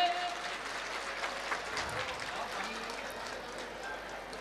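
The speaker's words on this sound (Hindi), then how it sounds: "तालियां बजाइए दोस्तों" Audience applause at a Saraswati Puja event: a steady wash of clapping from a crowd, sustained throughout with voices mixed in.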